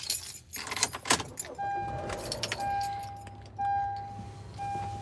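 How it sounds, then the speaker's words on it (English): Car keys jangle with glassy clinks up close, then a parked car's engine turns over and settles into a low idle, joined by a steady electronic chime that repeats in several long beeps. "Let me turn on my car because my phone's getting kind of hot."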